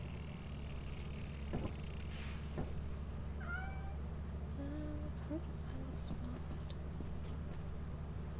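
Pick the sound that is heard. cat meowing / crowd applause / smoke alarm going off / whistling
cat meowing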